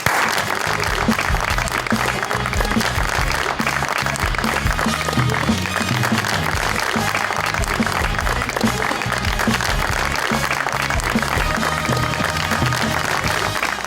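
Studio audience at a Pakistani TV talk show applauds to welcome the guests: loud, dense, steady clapping that fills the whole stretch, with a low rumble of background sound underneath and no talk over it.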